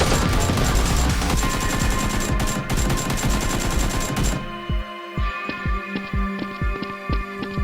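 Toy Nerf blasters fire in a dense, loud volley of rapid shots during a Nerf war game, thinning after a few seconds into separate sharp pops and clacks spaced about half a second apart.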